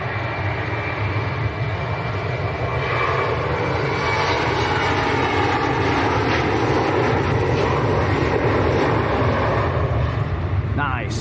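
Embraer jet at Manchester Airport bound for Helsinki, a steady, loud, broadband engine roar that holds throughout with no clear rise or fall, heard from a distance on the airfield.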